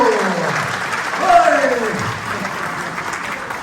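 Audience at an audio immersion event applauding a performer named Muso, steady clapping throughout while a voice speaks over it.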